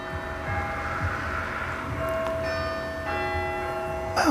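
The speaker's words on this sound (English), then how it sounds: "there we get a little chime of the church clock for the half hour" A church clock in the riverside village of Fladbury chimes the half hour, a couple of soft ringing bell strokes that sustain over quiet outdoor ambience, fairly distant.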